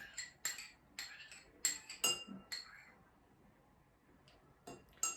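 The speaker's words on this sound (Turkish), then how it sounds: "Şöyle de karıştırayım." A spoon clinks against a glass while strawberry jam is stirred into a winter drink, a series of sharp, close glassy taps in uneven bursts with quiet pauses between.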